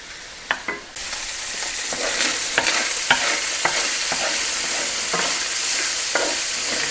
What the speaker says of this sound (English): I just want to crisp up the onion a little, or the bacon a little bit here